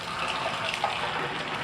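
Water runs steadily into a slow-draining shower drain during a home inspection in Mesa, Arizona, making a close, continuous gushing splash that holds even throughout with no pauses.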